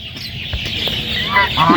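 Domestic ducks and geese kept in a farm enclosure give loud, close honks and clucking calls over a steady background hum, with a few harsher honks near the end.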